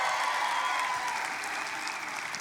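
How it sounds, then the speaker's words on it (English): A large audience in a room claps and cheers in a steady, dense wash of sound that holds loud for the full stretch without a break. "help me kind of feel out the room here, whether by, clapping or cheering or whatever"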